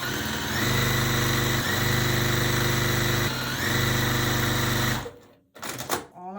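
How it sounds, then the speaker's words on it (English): A sewing machine runs fast and steady as quilt block pieces are chain-stitched, a loud close whirring with a couple of brief pauses, then it stops and fabric rustles at the end. "I'm going to sew that second one and I will show you what it looks like."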